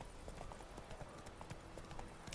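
Horse hooves clip-clop in a steady rhythmic gait during a ride in the video game Witcher 3, close and continuous over ambient game sound.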